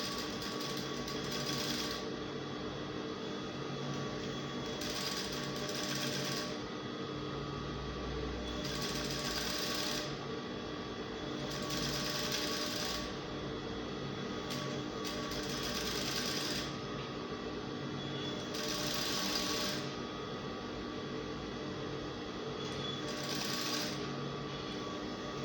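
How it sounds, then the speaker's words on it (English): A sewing machine runs steadily while top stitching close to a seam line on a sweetheart yoke, a continuous mechanical whir with short pauses and restarts, moderately quiet and alone. "So I'm sewing very close to the seam line"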